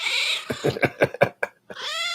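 A cat meows and caterwauls close up, a long drawn-out cry followed by a rapid series of short chattering meows, then another sustained yowl.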